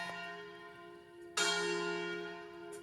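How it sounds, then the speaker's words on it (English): Italian village church bell rings out with sustained metallic tones, a fresh strike blooming loudly partway through and ringing on, clear and resonant with no talk. "Every village has their bell and it goes off every hour, half hour."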